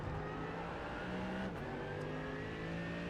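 Mercedes AMG GT3 race car in iRacing at Okayama accelerating out of a corner apex, the engine note climbing steadily and loud with a brief gear-shift dip midway.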